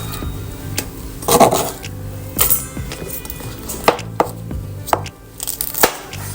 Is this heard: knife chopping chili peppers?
yes